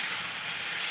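Fried potatoes tossed into hot spice masala in a pan, for a rohu fish curry with cauliflower and tomato, give a steady, even sizzling hiss throughout one short second with no voices.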